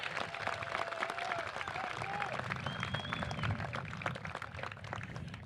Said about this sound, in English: Please join me in a round of applause to recognize the outstanding accomplishments of our Cal